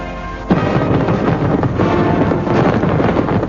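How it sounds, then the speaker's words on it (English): Fireworks at the 1997 Hong Kong handover ceremony burst in the rain. A dense, loud barrage of crackling pops and booms starts abruptly and carries on without a break, with a rough wind-like roar running underneath. "It was followed by a spectacular fireworks display, which the rain did nothing to dampen."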